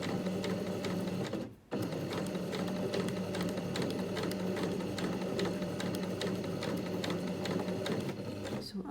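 A sewing machine runs a zigzag stitch along a fabric hem, a close, steady rapid mechanical chatter that briefly pauses once early on, then continues evenly to the end.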